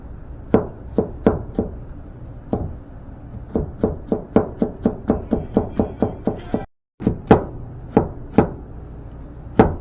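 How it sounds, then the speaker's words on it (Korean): A knife slicing bell pepper thinly on a cutting board makes a run of sharp, close chopping taps, steady and rhythmic with a brief pause in the middle, and no voices. "피망 이렇게 얇게 썰어 주세요"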